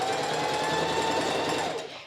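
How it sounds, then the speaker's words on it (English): A home sewing machine runs steadily for about two seconds, stitching around a fabric corner with a continuous close whirring hum that slows slightly at the end; no talking. "Okay, so now I'm going to sew this corner."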